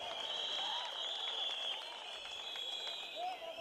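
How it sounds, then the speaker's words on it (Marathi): A crowd at a political campaign rally bursts into sustained clapping and applause, moderately distant and steady, easing slightly before swelling again. "एकदा टाळ्या वाजवा त्याच्यासाठी."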